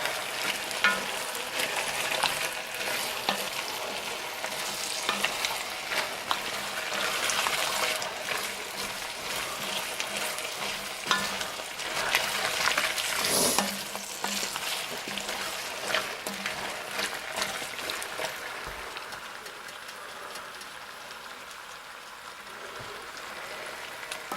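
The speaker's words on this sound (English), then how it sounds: "Now stir that together." Chopped celery is stirred in a pot while softening for clam chowder, a steady soft sizzle with scraping and shuffling from the spoon, several sharper clinks around the middle, fading somewhat toward the end.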